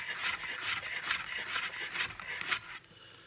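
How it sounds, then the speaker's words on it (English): A knife slices a jalapeno pepper into thin pieces, a quick run of close, soft rasping cuts that repeat evenly for about two and a half seconds before trailing off, with no voices. "for the jalapeno pepper, we're just going to have really nice thin slices."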